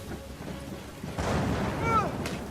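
Gunfire and a distant booming blast in the video game Uncharted 4, a muffled rumbling burst under quiet background game sound, followed by a short rising whine.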